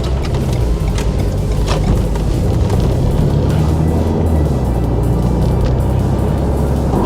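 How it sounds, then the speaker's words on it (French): A Renault car fitted with an EDC6 dual-clutch gearbox restarting, its engine giving a steady, loud, close idle rumble with low mechanical hum throughout, no voices. "On va pouvoir redémarrer et prendre la route."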